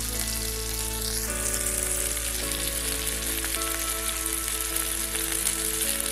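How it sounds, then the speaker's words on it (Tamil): Small onions and garlic sautéing in oil for a spicy onion chutney make a dense, loud, steady frying sizzle that fills the whole clip, heard up close with no talking. "இன்னும் கொஞ்சம் நல்லா வதங்கட்டும்."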